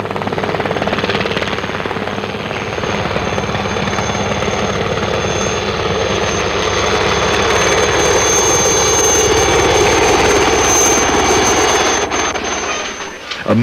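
A helicopter drones steadily and loudly near a volcano area around San Vicente, El Salvador, its rotor chop and turbine whine sustained throughout, with faint voices in the background.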